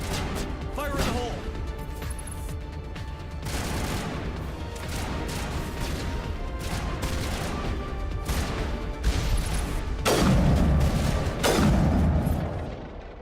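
A Mass Effect firefight rattles with repeated gunshots and crashing impacts, then builds to a heavy, booming grenade explosion near the end, loud and close.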